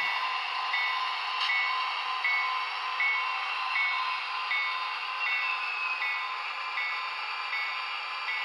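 Model railroad helper engines running on a layout: a steady whirring motor hum with a regular clicking beat from the wheels over the track, close and even throughout, with no voices.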